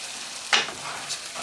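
Mushrooms frying in leftover bacon fat in a pan, a steady close sizzle with a brief louder crackling burst, likely from stirring, and no talk.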